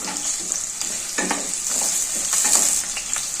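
Onions sizzle in hot oil in a pan for a potato kurma, a steady bright frying hiss with occasional stirring scrapes and crackles, close up and uninterrupted by speech.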